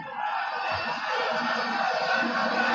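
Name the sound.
boxing crowd big cheer after furious round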